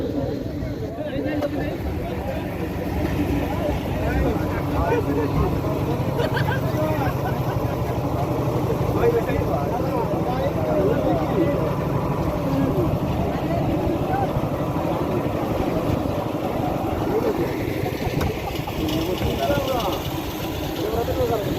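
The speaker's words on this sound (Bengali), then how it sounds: "উনি ইনশাল্লাহ আমাদের নৌকা ছেড়ে যাবে অল্প সময়ের ভিতরে" A motorboat engine drones steadily at close range on Chalan Beel, a wetland, for the whole stretch, with people talking over the constant rumble.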